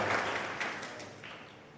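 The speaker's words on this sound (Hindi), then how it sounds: "ताली बज गई ना?" Brief burst of audience clapping at a Jain muni's sermon gathering, moderately loud and fading over under two seconds, with no speech over it.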